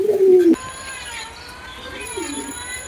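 Heavy-booted Lotan pigeons coo inside a loft, one loud close call at the start and then softer, scattered coos over a quiet background.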